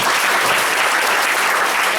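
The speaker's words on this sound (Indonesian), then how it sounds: "boleh tepuk tangan buat Pak David Hendrawan." Dense, steady applause from a seated audience at a talk, a continuous wash of clapping filling the whole moment at close range.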